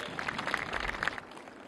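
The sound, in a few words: audience applauding officers and workers at PNS Babar launch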